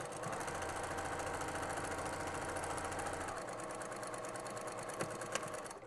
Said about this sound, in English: Sewing on that line, double checking to make sure I have no escaping beans.